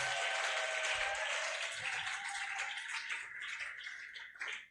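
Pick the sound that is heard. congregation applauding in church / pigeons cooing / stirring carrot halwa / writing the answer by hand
congregation applauding in church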